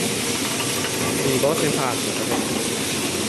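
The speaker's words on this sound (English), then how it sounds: "This is a cutlery packing machine." A JBK-250 automatic packing machine for forks, spoons, knives and napkins runs with a constant loud mechanical drone and hiss. Someone speaks briefly over the noise.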